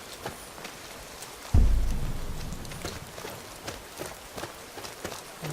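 Steady rain pattering in a video game set in Skyrim's Riverwood, a dense continuous patter with a brief low thud partway through, nearby and moderately loud with no voices.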